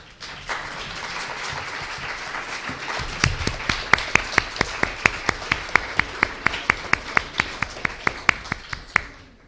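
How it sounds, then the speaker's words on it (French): Audience at a French academic study day on early Gothic portals applauding the speakers: scattered clapping that settles into a steady, fairly close rhythm of distinct, evenly spaced claps before fading at the end. "je pense qu'on peut encore applaudir tous les intervenants de la journée"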